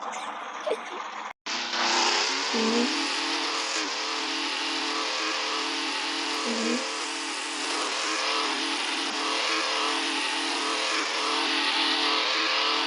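A video-game Formula racing car engine roars at high revs almost continuously after a brief cut near the start, loud and sustained, with the pitch wavering as the car accelerates and shifts.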